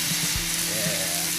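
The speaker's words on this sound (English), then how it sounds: "Now we're gonna lay these steaks down." Skirt steaks sizzle on a hot Blackstone griddle over high heat, a steady close frying hiss with faint crackles and no talk.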